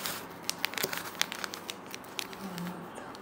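Thin plastic packaging bag crinkling and rustling close up as an item is unpacked, with irregular crisp crackles.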